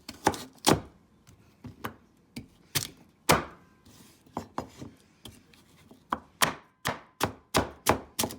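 A knife chops buttercup squash into small cubes on a board, sharp percussive strikes arriving in an irregular then steady rhythm, each a crisp close thunk, with no voices.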